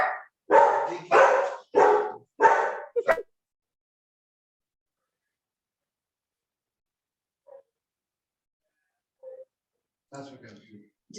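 Dogs bark in a quick run of four or five loud, close barks, then go quiet apart from a couple of faint yips, before a few more distant barks at the end.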